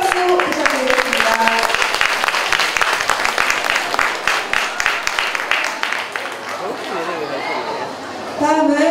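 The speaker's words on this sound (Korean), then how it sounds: "큰 박수 부탁드리겠습니다" Audience applause at the opening ceremony of the 6th Songnaro autumn festival: dense, steady clapping from a crowd across most of the span, fading toward the end, with a voice on the loudspeaker at the start and finish.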